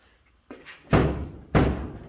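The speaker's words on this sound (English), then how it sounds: "for some reason that pillar is tweaked ahead and not allowing the door to close all the way" A rusty 1948 GMC truck door with a tweaked pillar is slammed twice but won't close fully, two loud metallic thuds about half a second apart after a faint click.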